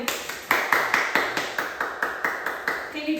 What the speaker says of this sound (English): can you tell I clap when it's time to eat?